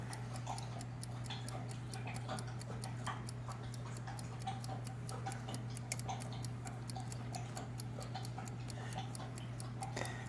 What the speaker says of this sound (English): It's ticking